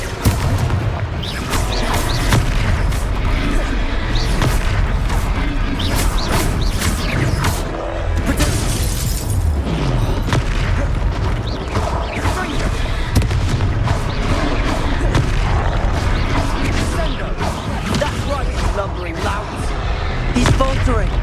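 Repeated Confringo fire-spell explosions from combat in the video game Hogwarts Legacy, loud bursts and crashes layered densely over continuous battle noise and music for the whole stretch.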